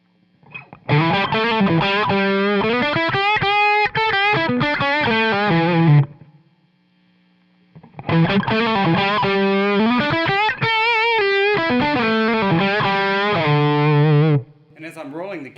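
Electric guitar played through a J. Rockett The Dude overdrive pedal, two driven, sustained chord phrases with a thick, saturated tone, separated by a short pause of near silence.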